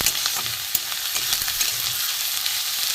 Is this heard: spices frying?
yes